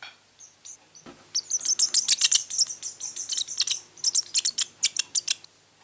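House martin chicks chirp rapidly in a dense run of high, thin cheeps, close and loud, with brief pauses between bursts.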